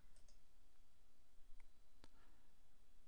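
Computer mouse clicks while working in Microsoft Excel 2007, a few sharp, faint clicks spaced apart over a low steady hiss, with no voices.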